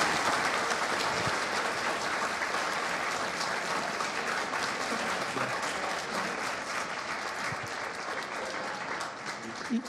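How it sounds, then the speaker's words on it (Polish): Steady, sustained audience applause at a university guest event in Poland, a dense wash of many hands clapping evenly for about ten seconds without pause. "Widzę, że chcecie powitać oklaskami."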